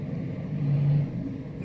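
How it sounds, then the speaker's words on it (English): A small sidewalk cleaning machine drives past, its low motor rumble swelling briefly as it nears and then easing off, steady and fairly faint throughout. "Oh, little sidewalk cleaner going by"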